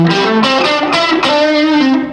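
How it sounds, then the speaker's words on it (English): An electric guitar strums a few chords with a wet, lingering reverb tail washing behind each stroke, steady and loud with no voices. "that's dry with reverb"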